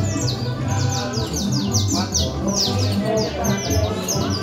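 A creole canary sings rapid rising trills and chirps, loud and close, with repeated bursts over a steady background of other birds and low room noise.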